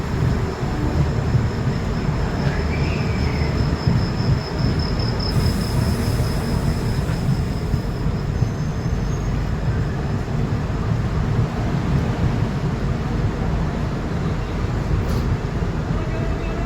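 Garib Rath Express pulling into Bandel Junction, a steady loud rumble of the train with a faint high whine, talk heard over it.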